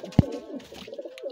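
A nesting pigeon in a pet box coos angrily, one sharp low burst followed by softer throaty cooing, close and clear.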